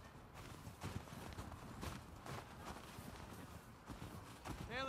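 Horse hooves clip-clop at a steady walking pace on a ranch in Jackson, Wyoming, within The Last of Us Part II, moderately near over a low ambient bed with a faint chime near the end.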